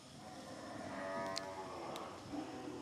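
A cow moos at a cow shelter in a low, drawn-out call that sounds faint and somewhat distant over soft background noise.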